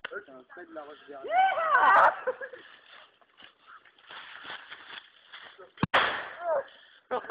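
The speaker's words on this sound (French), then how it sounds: "je testais très gentiment une grenade explosive sur mes amis" An airsoft explosive grenade goes off once in a field, a single sharp pop partway through while several people talk and shout around it.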